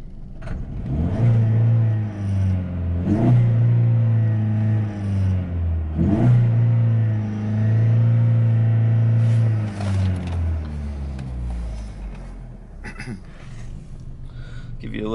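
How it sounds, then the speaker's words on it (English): A collision-damaged 2012 Chevy Sonic's engine is revved from inside the car in several rising and falling pulls, each swelling to a loud roar and then dropping back to idle, with a voice talking over the later part. "Rev the engine for you here."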